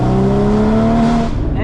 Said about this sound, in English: this car, the noise and everything is fantastic